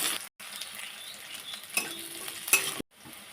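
Onion, garlic and dried red chillies sizzle steadily in a pan, with a spoon scraping and stirring and a couple of clinks against the metal; no one speaks.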